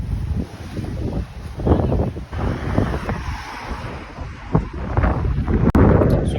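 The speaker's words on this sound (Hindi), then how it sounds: "हवा चल रही बड़ी है।" Strong wind gusting and buffeting the microphone beside a hotel pool in Dammam, Saudi Arabia, a loud, steady rush with rumbling surges and no voices.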